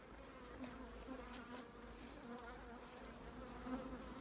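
Honeybees buzz around a hive at an apiary, a soft steady drone with faint individual wingbeats passing near the listener.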